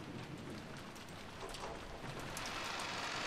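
A rain downpour effect from the Umineko visual novel, a soft, steady wash of falling rain with scattered droplet patter, fairly quiet and alone.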